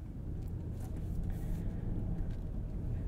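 2021 Lexus LX570 SUV accelerating, a steady low engine and road rumble from inside the cabin, continuous and moderately loud with no talk.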